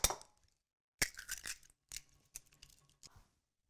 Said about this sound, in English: First step, an egg. I'm just going to crack it into the bowl.